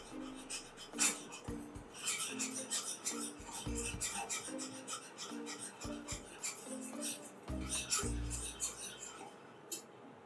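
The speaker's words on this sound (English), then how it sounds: "Whisk it thoroughly." A whisk scrapes and rasps repeatedly against a pan while stirring a butter and flour roux, quick irregular strokes running close and fairly quiet, with no talking.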